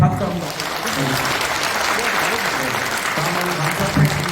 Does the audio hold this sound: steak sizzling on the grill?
no